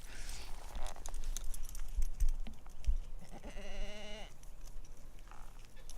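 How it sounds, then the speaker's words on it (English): Goats bleat outdoors, one clear wavering bleat standing out near the middle among wind and handling noises, with a fainter call afterward. "They're goats."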